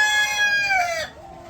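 A village farm rooster calls in a short, loud burst of clucking and crowing that slides downward and cuts off, close and alone.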